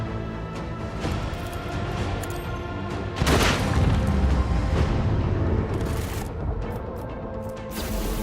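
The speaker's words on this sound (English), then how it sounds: "And the plasma torpedoes can do their thing." Plasma torpedoes exploding in Rogue Trader: a dense, loud barrage of booming blasts and crashes, with a heavier impact surge around the middle that tails off into scattered bursts, no voices.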